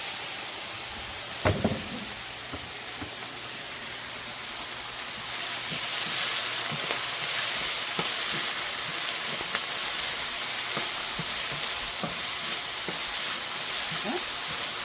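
Onions fry in a pan for spaghetti sauce, a steady, fairly quiet sizzling hiss that thickens partway through, broken by an occasional faint click or tap and no talking.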